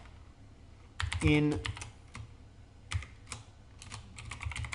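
Keys clatter in quick bursts on a computer keyboard as Python code is typed, a close, crisp flurry followed by scattered taps, with a voice briefly speaking over it.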